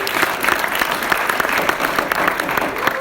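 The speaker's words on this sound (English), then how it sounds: "Let's give them a round of applause." Audience applause after a performance, dense, steady clapping from a crowd lasting throughout, loud and close without a break.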